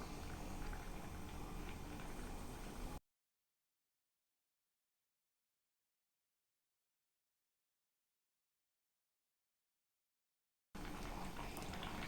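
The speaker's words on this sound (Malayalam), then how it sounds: "ഇപ്പോൾ നമ്മുടെ കറി ഒന്ന് തിളച്ച് വന്നിട്ടുണ്ട്." Sardine curry bubbling at a steady boil in a clay pot, a dense wet hiss heard in two stretches separated by a long silent gap.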